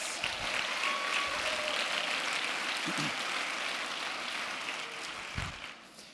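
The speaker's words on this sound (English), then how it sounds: "Give the moms a round of applause." An audience claps for pregnant mothers at a live event, with a sustained, fairly distant round of applause that fades slightly toward the end.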